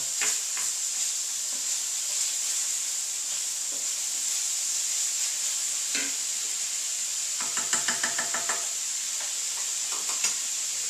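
Charleston shrimp and grits sauce cooking down in a pan, a constant close hiss and sizzle with scattered stirring scrapes and a brief rapid run of whisk clicks.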